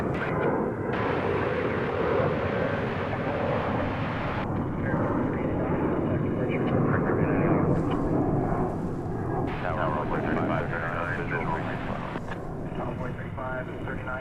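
An American Airlines jet takes off from DFW runway 36 right with a loud, sustained engine roar that rises and holds. Clipped radio chatter from air traffic control cuts in and out over it.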